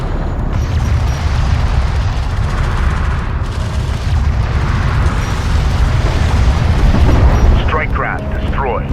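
Strike craft blowing up in Homeworld: Deserts of Kharak, heavy rumbling explosions and battle noise sustained throughout, with a brief voice crackle near the end.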